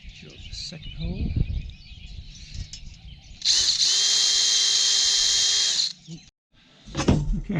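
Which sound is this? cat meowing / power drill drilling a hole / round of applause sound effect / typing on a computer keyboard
power drill drilling a hole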